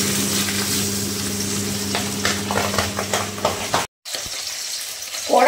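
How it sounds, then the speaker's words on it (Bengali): Fish such as boal or pabda frying in a kadai, hot oil sizzling and crackling steadily up close with sharp pops and stirring scrapes, a brief dropout near the end, then more sputtering. "কড়াইতে দেওয়ার সঙ্গে সঙ্গে ফটাফট ফাটা শুরু করে দিল।"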